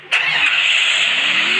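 A motorbike engine in a shooting video game starts with a sharp burst, then holds a steady, bright, close engine hum with no talk over it.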